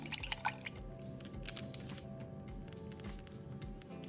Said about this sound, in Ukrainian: Беремо жовток, ну, одна столова ложка молочка. це розколочуємо.